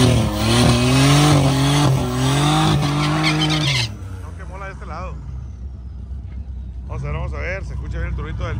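A turbocharged Nissan 300ZX and an Altima launch at a drag-racing event, loud engines rising through gears with tire squeal before fading into distance. A faint second pass follows near the end.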